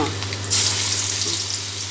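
Small pieces of egg fry in hot oil in a home kitchen pan. A loud, steady crackling sizzle swells after a moment and carries on close-up, with no one talking over it.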